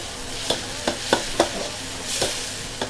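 A spatula scrapes and knocks against a wok every second or so over a soft, constant sizzle of rice stir-frying in oil.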